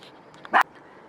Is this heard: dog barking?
yes